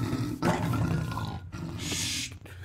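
Tiger from the Mo Creatures mod in Minecraft giving a long, loud, rough roar that rises and swells over about two seconds, heard close up with no talking.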